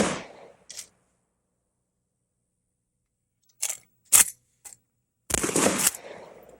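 Shotgun firing conventional rounds such as number 9 birdshot at a target, heard as a few sharp, loud reports spaced by silence, the last a longer blast with a decaying tail.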